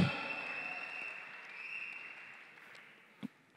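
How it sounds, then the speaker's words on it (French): Applause from wedding guests, a dense wash of clapping that starts strong and slowly fades over several seconds, with a brief sharper burst near the end, heard from within the room. "Merci beaucoup pour les acclamations"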